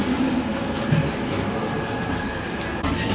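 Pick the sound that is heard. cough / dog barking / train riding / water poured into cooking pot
train riding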